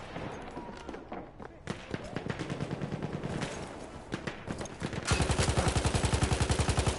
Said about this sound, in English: Shooting at a ghost on the trolleys.